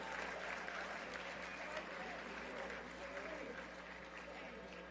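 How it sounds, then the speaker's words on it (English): Audience applause for the Leo Choir at a Dr. Martin Luther King Jr. annual breakfast, a steady, dense wash of clapping held at even strength throughout, heard from within the hall. "Big round of applause to Leo Choir, everybody."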